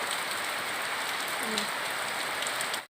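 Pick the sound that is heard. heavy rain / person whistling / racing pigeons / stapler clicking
heavy rain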